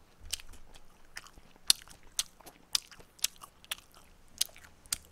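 Crisp crunching bites and chewing on crispy pepperoni pizza from a pizza chain, close up, with sharp irregular crackles repeating every half second or so over quiet mouth sounds, no voices.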